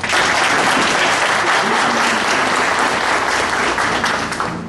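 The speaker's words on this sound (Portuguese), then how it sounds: "eu peço uma salva de palmas" Loud, dense applause from the audience at a Rotary Club ceremony in Juquitiba, honoring the board of directors, sustained at full strength for the whole stretch without a break.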